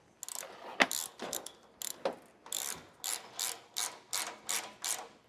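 A socket wrench ratchets in short, repeated bursts while a car exhaust is fitted, giving crisp clicking strokes at a steady rhythm, close and fairly quiet, with no talk.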